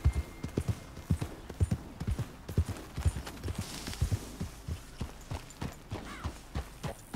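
Steady hoof clip-clops of a walking horse in the video game Red Dead Redemption 2, rhythmic and fairly close, over a faint background hum.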